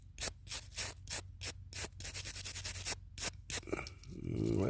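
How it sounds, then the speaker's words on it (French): A small brush scrubbing a small button: quick close bursts of bristle rubbing in an irregular rhythm, fairly quiet, with a short pause and no speech. "On va le nettoyer déjà avec ça. La petite brosse."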